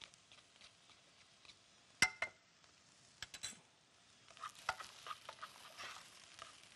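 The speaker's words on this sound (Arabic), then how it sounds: "احنا بنفضل نقلب في البسلة مع الجزر مع الفاصوليا والبصل مع الزبدة" Peas, carrots, beans and onion are stirred with butter in a pan, giving a quiet, soft scraping and faint sizzle, broken by a few sharp clinks of a spoon against the pan.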